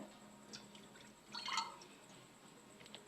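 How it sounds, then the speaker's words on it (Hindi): A cup of water is poured into a pot set up for steaming marinated chicken. It makes a quiet, short splash and trickle near the middle, with faint drips around it in a hushed kitchen. "और हम इसमें 1 कप पानी डालेंगे"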